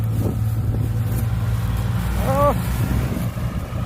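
Steady, heavy wind roars across the microphone outdoors, with a low engine-like hum underneath and one brief wavering tonal cry partway through.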